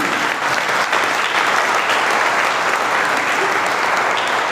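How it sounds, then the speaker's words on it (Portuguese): Steady, loud applause from a church congregation during a communion service, a dense wash of clapping hands that fills the room without a break. "Então dê um forte aplauso ao Senhor."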